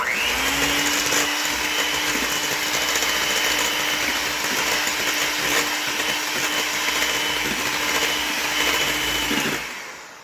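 An electric mixer beats chocolate cake batter in a home kitchen, a loud, steady whirring drone that holds for about nine seconds and then stops.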